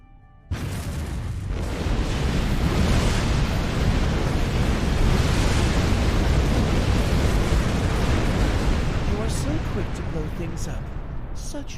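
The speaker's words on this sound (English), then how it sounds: "The charges on the surface are ready to detonate on your command." Charges blowing up a factory in the Star Trek Online game: a sudden loud blast that swells into a long, dense, roaring rumble lasting many seconds.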